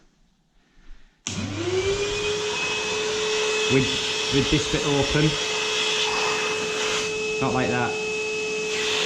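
A Hoover vacuum cleaner switches on abruptly during wall prep and runs with a steady high whine and airy roar, while someone talks over it intermittently.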